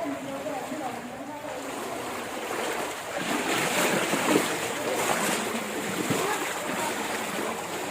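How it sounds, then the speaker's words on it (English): Continuous rushing water flowing over a rocky cave floor at Robber's Cave, Dehradun, a broad steady hiss that grows slightly louder midway, with a voice faintly present underneath. "It's a cave like this, and then water is flowing on the floor."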